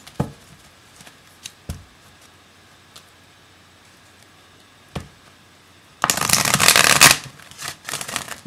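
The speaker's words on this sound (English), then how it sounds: "it was like new start to the shuffling." Oracle cards being shuffled: soft scattered taps and flicks at first, then a loud dense riffling burst of cards lasting about a second, followed by a few more shuffling rustles.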